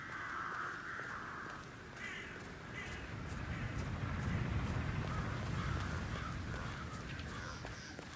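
Crows caw repeatedly over a low, continuous outdoor ambience in the video game Hitman 3, set in Dartmoor. The harsh calls come in short bursts, moderately close and clear against the quiet background.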